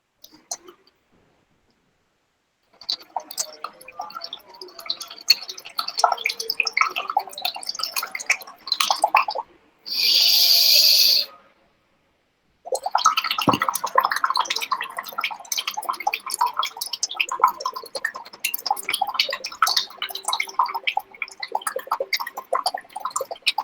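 Air blown through a straw into a glass of water, gentle bubbling gurgles in long bursts separated by pauses and one brief steady rushing blow, close and fairly quiet.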